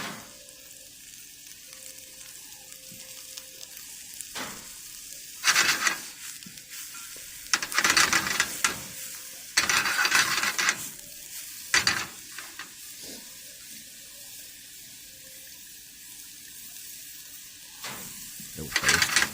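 Mushrooms sizzle in olive oil in a pan and are tossed around. A low steady fry is broken by several loud bursts of hiss and scraping as they are moved, and a voice is faintly present at times.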